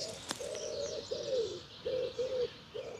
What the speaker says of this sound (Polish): Gołębie gruchają.